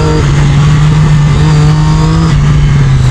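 A track-spec Triumph Daytona motorcycle engine holds a loud, close, steady high-rev drone, its pitch dipping briefly before it settles again, with no talking.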